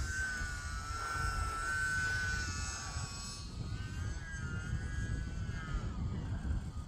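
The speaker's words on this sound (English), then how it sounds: "Here we go, full throttle as I bring it around right in front of me." A UMX Turbo Timber RC plane flies past at full throttle, its electric motor a steady high whine that bends in pitch as it sweeps around close by, with a low wind rumble underneath throughout.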